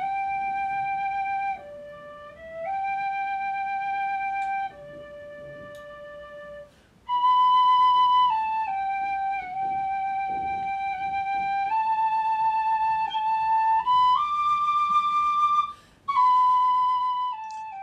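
Tin whistle played in a room with good acoustics, a loud, clear melody of sustained notes that step between pitches, with brief breaths between phrases and no voices.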